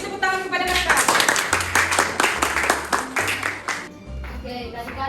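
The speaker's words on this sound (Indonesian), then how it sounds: "Ayo beri tepuk tangan kepada mereka." Junior high school students clapping during a tolerance outreach session in a classroom, rapid steady hand claps under a loud hum, with voices mixed in and a brief lull near the end.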